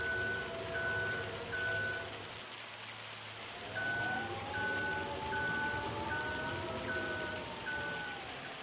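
Hail drums steadily on a vehicle in the Riverbend Springs logging roleplay game, a dense patter that continues throughout while a reversing beeper chirps in regular bursts and a low engine hum shifts pitch underneath.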